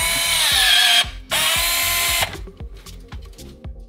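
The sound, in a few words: screwing neutral wire into terminal block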